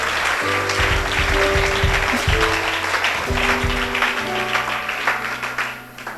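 A church congregation claps in praise to the Lord, a dense steady patter of many hands that carries on throughout, mixed with sustained tones from instruments or voices underneath.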